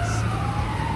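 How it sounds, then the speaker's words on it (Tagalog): An emergency siren wails along a rainy Brussels street, a steady sliding tone close by over traffic rumble, heard only for a brief moment. "Ay, police! Ambulance."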